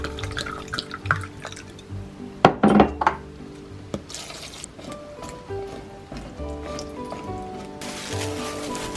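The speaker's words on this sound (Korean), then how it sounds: "소주를 부어 방부제 역할을 할 수 있게 해준다." Soju poured over peppers to pickle them, a splashing liquid pour with drips and a few clinks of the container, loudest in a short burst partway through, then a softer steady trickle.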